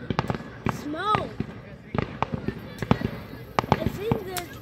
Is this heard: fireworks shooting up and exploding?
yes